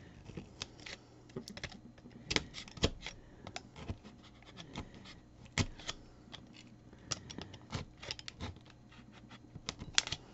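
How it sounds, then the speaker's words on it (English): A blade cuts slots through foam for a cabin base. Rough, scratchy rasps come in quick irregular bursts, close and fairly sharp, over a quiet background without talk. "I really dislike the sound of cutting through this kind of foam."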